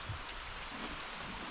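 Soft, steady rain falls on the plants of a village garden with passion fruit and okra, a faint, even hiss with no talking.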